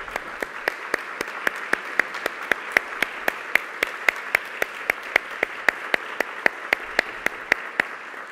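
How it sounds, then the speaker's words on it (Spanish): Audience applause closing a university panel dialogue, a steady wash of many hands clapping with sharp, evenly spaced claps standing out throughout, sustained and fairly close with no talking. "Gracias, un aplauso,"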